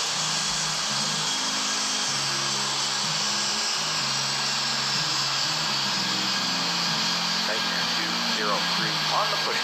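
A jet airliner takes off in the airport game Airport Madness 3D at Kingston, Jamaica, a steady loud roar of engines that continues throughout while radio voices talk over it.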